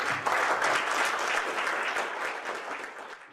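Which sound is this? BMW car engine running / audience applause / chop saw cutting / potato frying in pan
audience applause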